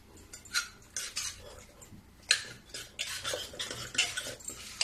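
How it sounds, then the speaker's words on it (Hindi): A ladle scrapes and knocks against a metal pot while mango amoth is stirred off the stove, giving irregular clinks and swishes with short pauses, close and fairly quiet, with no talking. "अब मैं ये दाल निकालने वाला कलछुल ली हूँ, इससे मैं थोड़ा अच्छे से मिला दूंगी"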